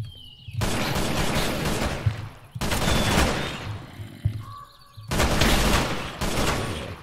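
Kalashnikov rifle fire in a Minecraft hardcore game, loud sustained bursts of rapid automatic shots in three long volleys separated by short pauses.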